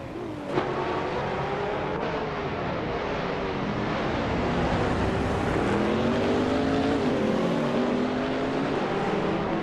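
Race cars in a racing video game roar continuously at close range, several engines overlapping with rising and falling pitch sweeps as they jostle on the track toward the finish, with a Porsche among them.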